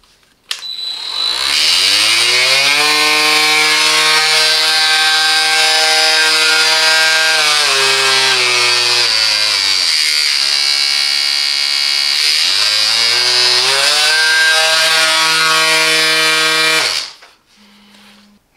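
A Parkside PMSA 20-Li A1 20V cordless multi sander runs loud and steady for about fifteen seconds, with a vacuum connected, its motor whine dipping in pitch midway before rising again and then cutting off.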